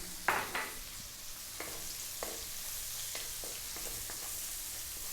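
Garlic sautéing in a pan while cooking humba gives a steady soft sizzle, broken by a few sharp scrapes and clinks of stirring near the start and scattered lighter taps later.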